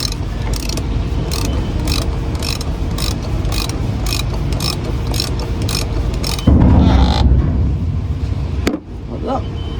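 Ratchet wrench tightening a fitting on a truck, around a Mercedes Econic fuel system, clicking in a steady repeated rhythm for several seconds before a louder mechanical clunk and rustle, close and fairly loud.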